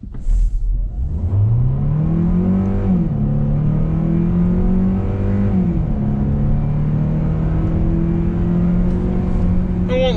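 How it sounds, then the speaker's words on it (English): A Hyundai Sonata Hybrid in sport mode accelerates hard from 0 to 60, its engine note rising in loud, steady pulls with shift-like dips, heard from inside the cabin. "We'll shift into sport mode for 0 to 60."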